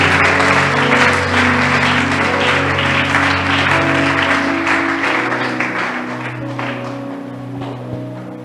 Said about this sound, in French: Tobeteli nkolo maboko.